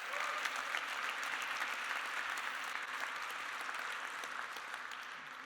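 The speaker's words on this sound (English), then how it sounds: "big round of applause for Jasmina" A conference audience applauds in a large room. The clapping is steady and fairly faint and fades slightly toward the end, with no clear speech over it.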